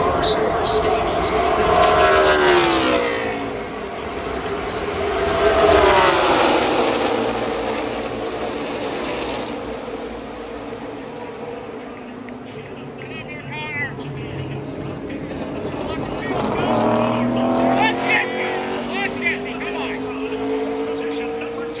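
NASCAR Xfinity race cars roar past at Talladega in swelling, fading waves of engine noise, several cars at a time, heard from the track under steady commentary.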